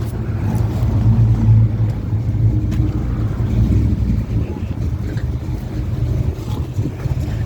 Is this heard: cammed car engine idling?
yes